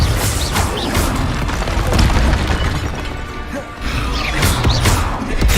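Fiery Confringo spell blasts in the Hogwarts Legacy video game, several booming, crashing explosive bursts packed close together over dense continuous combat noise, loud and near.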